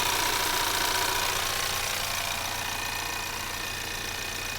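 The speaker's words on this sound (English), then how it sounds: "everything from the internals of the engine to a certain extent, like the valves, for example, or valve springs, potentially, to the high pressure fuel injector pump." Ford Maverick EcoBoost engine running, its valvetrain and high-pressure fuel injector pump giving a steady fine ticking over a continuous close hum, unchanging throughout with no talking.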